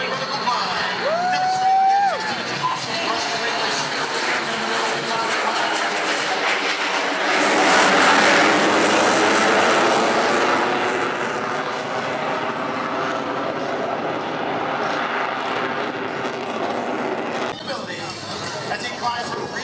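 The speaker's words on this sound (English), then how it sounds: "When he reaches show center, Major Graham will fly full afterburner and accelerate his aircraft into a nearly vertical climb." F-16 jet at full afterburner pulling into a near-vertical climb at the Key West airshow, a broad roaring blast that peaks and fades over an announcer's voice and crowd noise.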